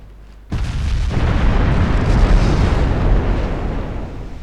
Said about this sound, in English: it's just her aft turret and a couple of the 5-inch guns firing back now